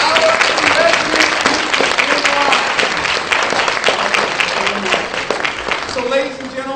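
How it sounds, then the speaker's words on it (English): A lecture audience at a university center for critical race studies stands and gives a warm, sustained round of applause to scholars and veterans; dense, loud clapping runs throughout, with a voice occasionally heard over it. "please stand and give a warm round of applause to our 2017 scholars and veterans"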